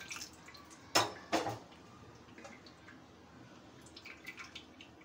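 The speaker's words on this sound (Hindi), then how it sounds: "इसमें पानी ऐड करते जाएंगे और छानते जाएंगे" While besan kadhi batter is strained with water added gradually in a kitchen, soft splashes and drips sound, with a couple of sharper close clinks of utensils early on, then quiet scattered trickling.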